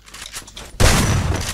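Shotgun fire in the Free Fire Max video game, a sudden loud blast partway through that rings on with a broad noisy tail, following quieter game sounds.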